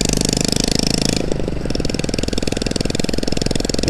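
A motorbike running on a road, heard close by as a steady rough mid-pitched engine drone with a rapid rhythmic putter, loud and continuous.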